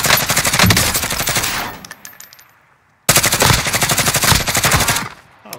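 Rapid automatic gunfire in a shooting video game, loud and close, in two sustained bursts split by a short silent pause.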